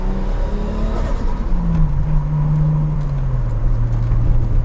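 A Nissan HR31 Skyline 2000 GTS-R engine drones loudly and rises to a high, sustained whine, holding steady at high revs without any talking.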